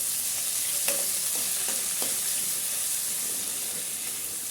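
Onions frying in oil in a home kitchen pan: a steady, fairly quiet sizzle with a few light stirring clicks, no talking.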